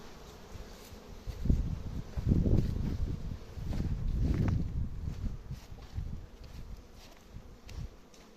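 Honeybees buzz around woven basket hives outdoors, a low droning hum that swells as bees pass close by and then settles to a softer steady buzz, with faint rustling.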